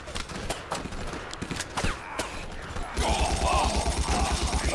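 Battlefield 1942 Soviet campaign combat, with scattered gunshots early on, then a rapid rhythmic machine gun burst starting about three seconds in, loud and sustained over game noise.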